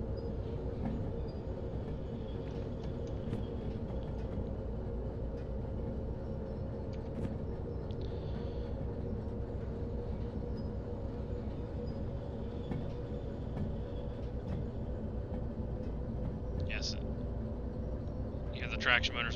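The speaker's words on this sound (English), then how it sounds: "Traction motors whine, it's already starting to pick up." A freight train with autoracks in the Derail Valley simulation game, its traction motors whining steadily as it begins to pick up speed out of the yard, with a continuous rumbling drone and occasional brief squeals.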